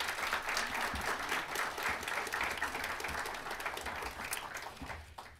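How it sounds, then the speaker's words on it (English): An audience at a university talk on democracy breaks into sustained applause, a broad even wash of clapping that holds steady and then begins to thin toward the end. "Please give a round of applause"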